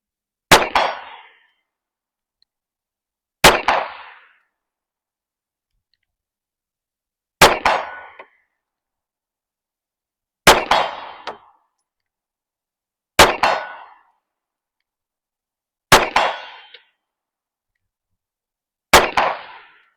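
Smith & Wesson M&P Shield X Carry Comp 9mm pistol shots at 50 yards, seven sharp cracks spaced a few seconds apart, each followed by a brief distant metallic ring from an IPSC steel target.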